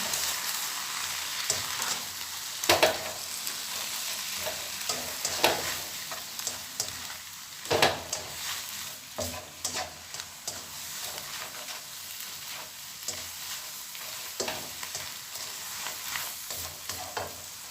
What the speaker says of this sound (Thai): เราจะผัดไฟแรงนะคะ